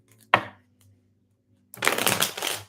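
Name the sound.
shuffling tarot cards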